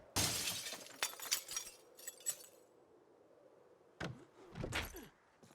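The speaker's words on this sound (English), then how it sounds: "before we smash that window" Window glass is smashed in two loud crashing bursts with tinkling shards, separated by a quiet stretch of a couple of seconds.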